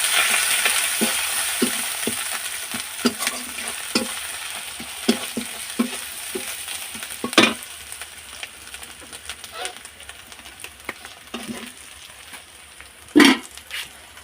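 Ground spices, turmeric and chili powder frying in a pan for a Bengali pumpkin and Malabar spinach chorchori: steady soft sizzling with repeated scraping stirs of a spatula, and a voice speaking over it.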